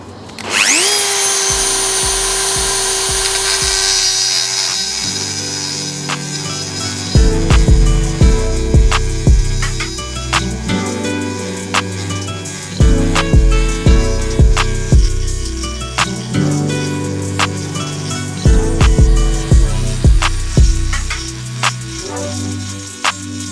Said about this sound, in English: it's pretty much all about shaping the port, which I will demonstrate.